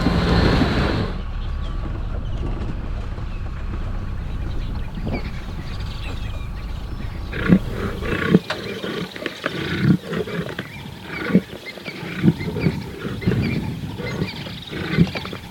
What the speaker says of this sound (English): He's growling under his breath as he's trying to feed.